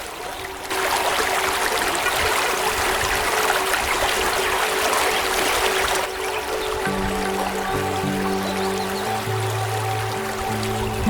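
Rushing water of the Congo River at Livingstone Falls, a vast cataract system, heard as a loud, steady broadband roar that continues without a break while low tonal sounds rise beneath it in the second half.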